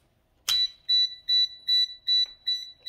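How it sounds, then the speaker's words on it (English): A STEM electronic circuit kit gives off a sharp click and then a series of six high, regular electronic beeps at an even pulse, loud and close in a quiet room. "When we added these two together, it makes this beep."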